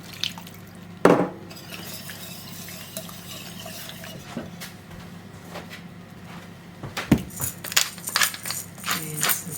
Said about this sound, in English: now I'm just adding some water